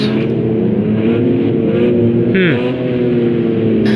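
A GT3 race car doing burnouts in the video game Project Cars 2 at Fuji, a loud sustained engine drone with a quick rev and tire squeal near the middle.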